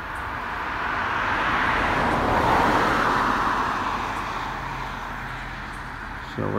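A car drives slowly past a house decorated for Halloween, its engine and tyre rumble rising to a peak midway and then fading as it moves on, with no talking over it.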